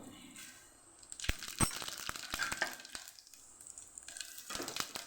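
Cumin seeds crackle and sizzle steadily in hot oil, punctuated by sharp pops and a few clinks, close and moderately loud.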